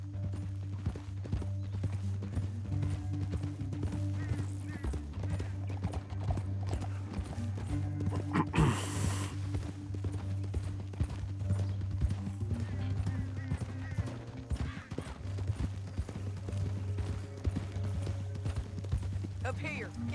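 Horse hooves clip-clop steadily in Red Dead Redemption 2, a continuous rhythmic trot under a constant low musical drone, with an occasional whinny and a brief burst of noise midway.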